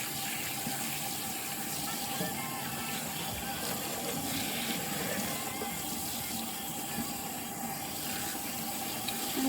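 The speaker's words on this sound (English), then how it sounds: "I'm just going to wet it with lukewarm to warm water" Lukewarm to warm water runs steadily from a tap over a kinky curly wig as the hair is soaked through, a continuous close gushing stream with no break and no one talking.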